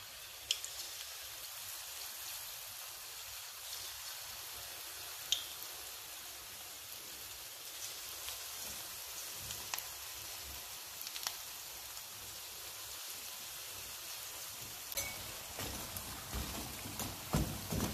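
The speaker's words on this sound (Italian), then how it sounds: "E uno a uno continuo a friggere tutti gli altri" Steady, dense sizzling and crackling of artichokes frying in hot oil, with scattered sharper pops throughout, fairly quiet and continuous, no voices.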